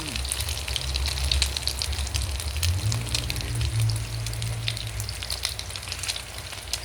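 Long eggplant frying in hot oil, a steady close sizzle with faint popping and crackle throughout, alone with no talk.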